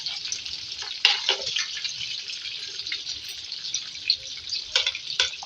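Potatoes frying in a pan while being stirred, a steady close sizzle with scraping stir strokes and occasional clinks of the spoon against the pan, no voices.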